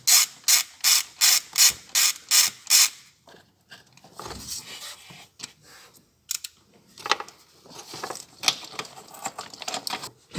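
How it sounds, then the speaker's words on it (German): A ratchet works loose the gearbox bolts on a VW Golf 4 1.4 16V during a transmission swap: a run of about eight sharp, evenly paced clicking bursts, then quieter scattered ratchet clicks and clanks, close up. "Jetzt werden wir von oben noch die 2 Getriebeschrauben lösen."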